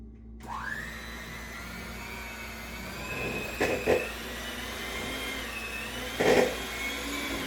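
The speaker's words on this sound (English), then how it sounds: "And get your mixer out." An electric mixer creams tea cake batter with a high steady whine that spins up at the start and holds, interrupted by a few louder bumps and scrapes of the beaters against the bowl.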